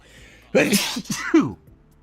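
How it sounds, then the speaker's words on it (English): A single close sneeze with a sharp inhaled buildup followed by an explosive burst, then quiet. "I got to sneeze, by the way."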